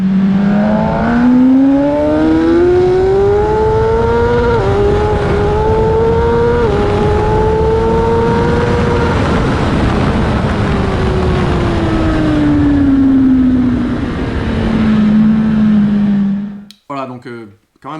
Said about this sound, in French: Première vitesse, vraiment à bloc jusqu'au rupteur, je pousse la moto à fond